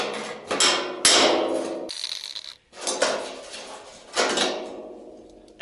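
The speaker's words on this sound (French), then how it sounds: "je vais finir de décoller au burin" Cold chisel struck with a hammer to split a spot-welded front car body panel apart, several loud sharp metallic blows in irregular rhythm, close up, with no talking.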